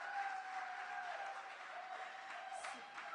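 Scattered applause from the crowd at an NTA public meeting in Diego Martin, a thin, fairly distant clapping over a sustained tone, with a faint voice now and then.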